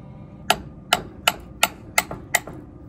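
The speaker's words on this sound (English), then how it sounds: "So I'm gonna attempt to do it with this punch and a hammer and we shall see." A hammer strikes a punch to drive out a stuck car axle, giving six sharp metallic blows at a steady rhythm, loud and close, with no voices.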